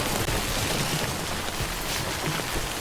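Steady, dense rain hisses without a break in the video game Death Stranding. It stays even and close the whole time, with no voices.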